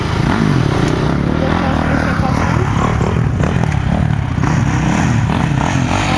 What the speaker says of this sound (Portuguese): dois motoqueiros aqui e eles vão acelerar esse morro aqui